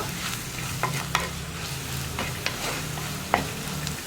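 Steady sizzle of spice powders frying in a pan for egg roast, with occasional sharp scrapes and taps of a spoon stirring through it.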